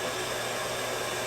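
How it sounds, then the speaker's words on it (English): A torch flame gives a steady, close, broadband roar as a hot glass bead is reheated in it. "I'm going to put it back in the flame"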